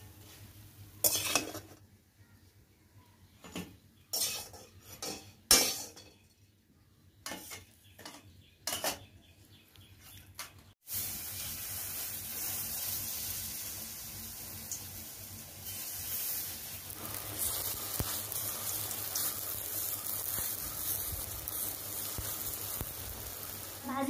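Taro-flower pakoras turning in a little oil, first a run of sharp clatters and scrapes of utensils against the pan, then a steady soft sizzle that continues to the end.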